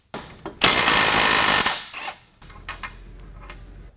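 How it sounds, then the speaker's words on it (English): A 1/2 inch drill bores into a Can-Am Maverick X3 upper control arm mount, one loud sustained whirring burst of about a second, then stopping, followed by quieter handling noises. "drill the upper control arm mount for the sway bar link with the same 1/2 inch drill"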